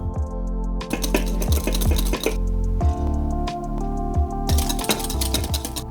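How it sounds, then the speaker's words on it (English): Melted unsalted butter whisked slowly into an egg mix for Eggs Royal, heard as steady close clinks and scrapes of the whisk against the bowl with faint liquid sloshing. "We're going to slowly add this into the egg mix while constantly whisking"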